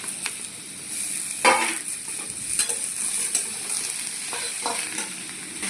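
Ridge gourd frying in a pan, a steady close sizzle broken by several scraping stirs of a spatula, with no voices.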